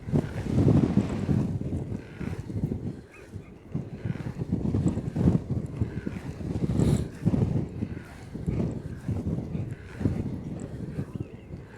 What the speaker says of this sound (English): Got a bit of a headwind here.